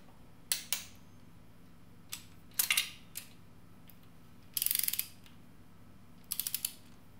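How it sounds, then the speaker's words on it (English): A torque wrench tightens head bolts on a Mitsubishi 4G63T engine block during assembly, giving several separate bursts of rapid ratcheting clicks with pauses between them over a low steady hum, with no talking. "Now I just torque these down to the proper spec."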